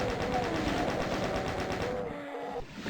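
Rapid gunfire from a chaingun and shotgun in the classic shooter DOOM, a dense loud rattle of repeated shots that carries almost continuously, then thins out near the end.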